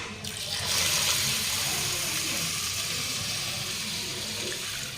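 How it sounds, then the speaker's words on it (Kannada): Water gushes steadily into a bowl of washed rice from close by, a continuous splashing pour lasting several seconds. "ಈಗ ನೆನೆ ಇಡಕ್ಕೆ ನೀರು ಹಾಕ್ಕೊಂಬಿಡೋಣ"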